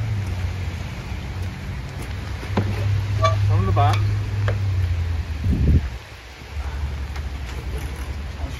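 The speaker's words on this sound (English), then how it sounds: "It's raining, so we have to do it fast." Steady rain falls outdoors around a cargo trailer conversion, a constant hiss throughout, briefly broken by a few vehicle-like sounds, with a person speaking a few words midway.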